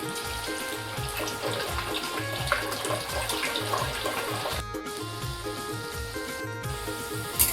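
Small balls of kothimbir vade batter frying in hot oil over a low flame: a steady, dense bubbling sizzle throughout, with a faint rhythmic low thumping underneath.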